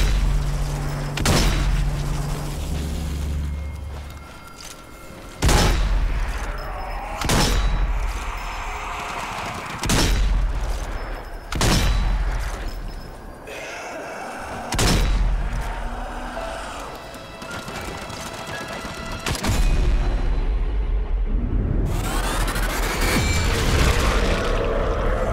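Gunfire against zombie hordes in Zombie Army 4: Dead War, with loud, heavy single shots booming out every few seconds over a constant rumbling game backdrop, closing in a sustained roar of noise.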